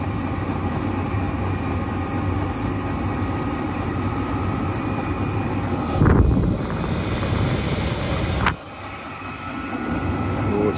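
A Chinese diesel heater runs in a workshop with a steady, close, roaring rumble and airy whoosh, broken by a brief thump and a sudden drop in level before the roar builds again.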